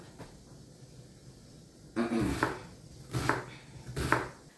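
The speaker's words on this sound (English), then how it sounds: "I'm just going to chop them into bite-sized pieces" Home-grown garden potatoes being chopped into bite-sized pieces on a board, three firm, evenly spaced knife strikes close up after a quiet start.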